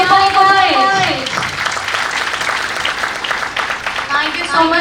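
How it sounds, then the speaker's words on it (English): Audience applause at a college festival event, a broad wash of clapping heard under a voice that speaks over the start and returns near the end. "Please give him a big round of applause as a member of Biyani College"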